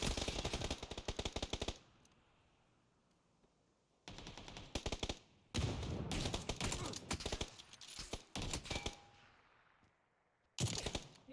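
Automatic gunfire in the PUBG shooter game comes in several loud, rapid bursts of crackling shots separated by short quiet gaps, close and harsh, with one final burst at the end.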